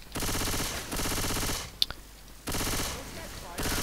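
Rapid bursts of automatic gunfire in the zombie shooter Left 4 Dead 2, loud and sustained in several stretches with brief pauses between them.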